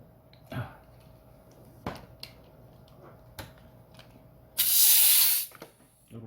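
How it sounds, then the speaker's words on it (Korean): A few sharp metallic clicks and taps, then a loud, steady hiss of pressurized CO2 gas charging a Dan Wesson 715 airsoft revolver, rushing for about a second before cutting off. "이렇게 가스를 장전을 해주는 겁니다"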